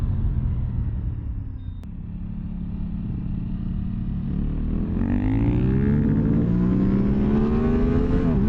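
An Aprilia Tuono 660 motorcycle engine drones steadily while riding, its pitch sagging then climbing smoothly through a shift, loud and close with constant road and wind rumble, no voices.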